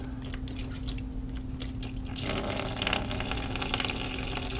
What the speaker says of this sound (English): Whoa, it's really starting to splash now.